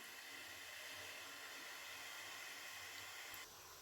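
Water boils in a cooking pot while koozh vadakam batter is prepared, giving a steady, even hiss and bubbling roar that holds throughout, then drops slightly at the very end, with no talking.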